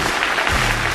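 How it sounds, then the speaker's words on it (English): Applause for a basketball team, a brief dense burst of many hands clapping in a large crowd. "Ladies and gentlemen, a round of applause for our Gilas heroes."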